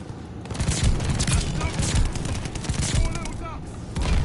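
Rapid machine gun fire in a Call of Duty Vanguard match rattles in dense bursts with booming impacts, and a voice talks over parts of it.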